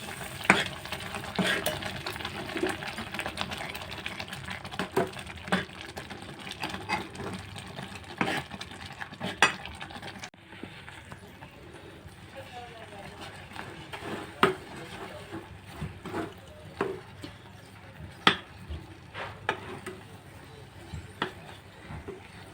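Roasted semolina is stirred in a pan, with repeated scraping and knocking of a spoon against the metal, uneven and close, over faint frying and a little background noise.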